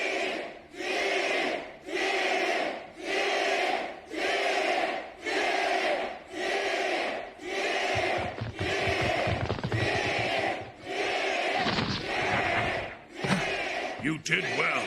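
Huge crowd of about 50,000 people chanting in a steady rhythmic pulse, roughly a dozen loud repeated shouts in even succession, with a rumbling undertone building near the end.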